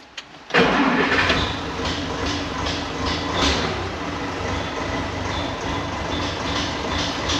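An IHC 1055 tractor's diesel engine cranks briefly, then fires into a loud, close, steady clattering idle that carries on to the end.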